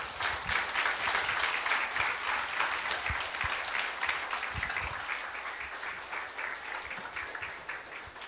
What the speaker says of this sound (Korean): 하나님께 영광의 박수 올려드리면서 우리 목사님 환영하겠습니다. 박수하겠습니다.